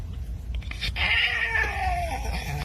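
A cat meows and caterwauls in a drawn-out, rising and falling cry, fairly close and loud, against indoor background noise with no talking.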